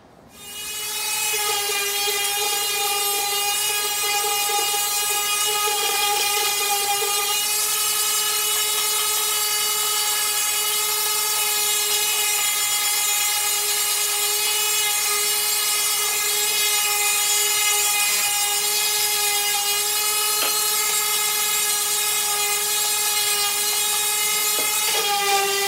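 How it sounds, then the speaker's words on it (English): A power sander smooths cut wooden fall pumpkin pieces, giving a steady, loud motor whine that runs unbroken from start to finish with no talking. "right now, like I've said, I'm gonna sand these down, get them smoothed up"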